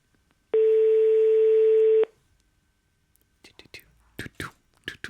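Mobile phone tones in a French radio talent-contest jury room: one steady electronic tone held for about a second and a half, followed by quiet, then soft close speech.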